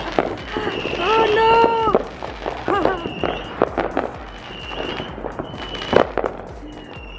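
Neighbours' Fourth of July fireworks crackle and pop in a rapid, uneven string of sharp bangs, some with whistling tones, near and loud, while people talk and exclaim over them.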